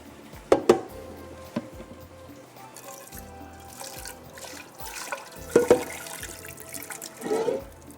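Water splashes and pours in a few short bursts against a sink as water is drained from rice, with quieter trickling in between; close and fairly soft.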